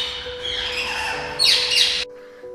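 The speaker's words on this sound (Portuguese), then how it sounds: "Galera, a arara voltou." A macaw gives loud, harsh squawks at close range, a drawn-out raspy call followed by two sharper screeches, with a faint steady tone in the background and no talking.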